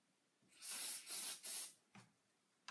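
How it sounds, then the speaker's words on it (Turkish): Three short bursts of freeze spray hiss close by in quick succession, followed by a brief fourth puff. "Spreyi sıkıp dondurun."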